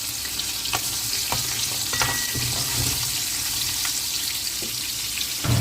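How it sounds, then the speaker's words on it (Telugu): Fish pieces marinated in salt and turmeric fry in hot oil, giving a loud, steady sizzle throughout, with occasional light clicks and taps from the pan. "చేప ముక్కలు, వాటిని ఇట్లాగా వేయించుకోవాలి మంచిగా"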